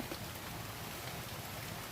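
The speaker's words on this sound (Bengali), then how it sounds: "এখানে প্রচণ্ড সারে বৃষ্টি হচ্ছে, বাইরে বেরোনো যাচ্ছে না" Steady heavy rain pours down in a dense, continuous hiss with no pauses or other sounds.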